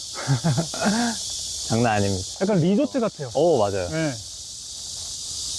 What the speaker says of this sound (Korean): 지금 매미 소리 들리십니까?